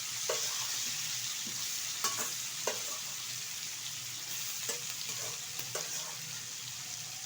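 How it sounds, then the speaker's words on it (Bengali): Prawns sizzle in fish oil in a kadai, a steady hiss broken by occasional clicks and scrapes of stirring; no talking. "আর এখন এই কড়াইয়ের মধ্যে দিয়ে দেবো কিছুটা মাছের তেল, দিয়ে দিচ্ছি কিছুটা চিংড়ি মাছ"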